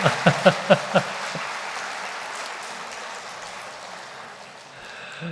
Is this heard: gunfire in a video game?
no